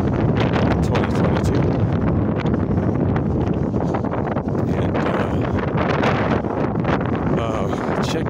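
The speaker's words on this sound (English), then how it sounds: "It is so windy today." Strong gusting wind buffeting the microphone outdoors, a loud continuous rumbling roar that barely lets up, with speech buried underneath.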